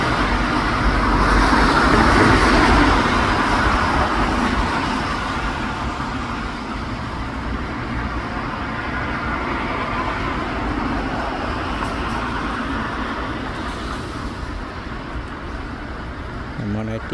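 Continuous road traffic rumble at a busy Bangladeshi bus stand, engines droning and swelling louder early on before settling into a steady wash, with a voice talking over it.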